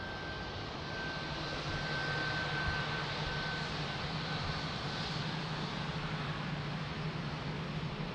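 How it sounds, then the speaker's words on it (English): An Etihad Boeing 787 airliner at Lisbon Airport makes a steady, broad jet-engine roar with a faint thin whine. The sound holds at an even, moderate level throughout, with no voices. "Beautiful Etihad 787."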